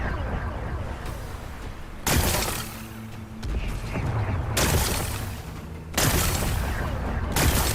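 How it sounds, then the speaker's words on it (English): Heavy blasts break apart rocks in Horizon Forbidden West, three loud explosive bursts spaced a couple of seconds apart with crumbling debris and rumble between them. "Gotta blast away some rocks so I can expose the power cell."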